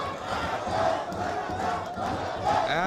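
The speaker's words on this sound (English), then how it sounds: "And you could hear the cheer." Spectators at a Bangladesh versus South Africa under-19 youth ODI cricket match roar and chant after a diving catch, a broad crowd cheer rising and swelling from a distance.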